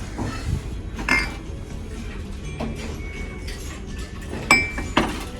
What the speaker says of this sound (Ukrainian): Тут сковорідки, каструлі.